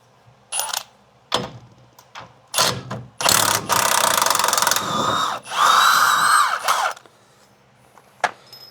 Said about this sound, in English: We're going to pull this bolt out.